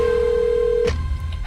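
A cell phone rings as a bomb trigger in a film scene, a steady electronic tone for almost a second that cuts off abruptly, followed by a short fading tail and low rumble.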